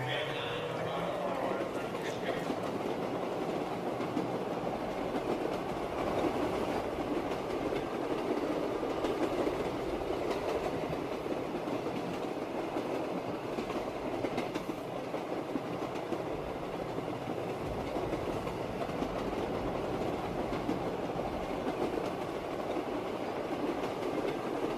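Train wheels rolling along rails in the zombies mode of Call of Duty: Black Ops III, Shadows of Evil, a steady rumbling clatter that runs throughout beneath a busy game mix, with a voice talking over it.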